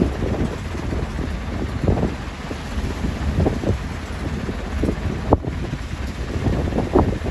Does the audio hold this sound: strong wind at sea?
yes